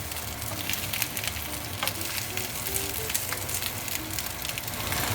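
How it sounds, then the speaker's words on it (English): Tofu and eggplant sizzle steadily in a hot pan while being gently stirred, a soft continuous frying hiss with faint scraping, close and fairly quiet, no voices. "let's add the tofu, the eggplant, gently stir it."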